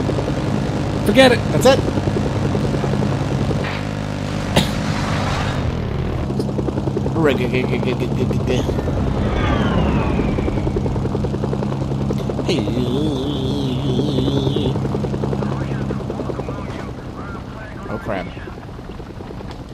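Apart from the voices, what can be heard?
aircraft landing in the video game Mercenaries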